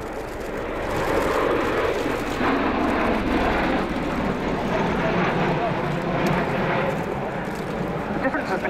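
A USAF CV-22B Osprey tiltrotor flying at the RIAT 2015 air show: a loud, continuous roar of rotors and engines that swells after the first second and holds steady, with speech from the air-show commentary.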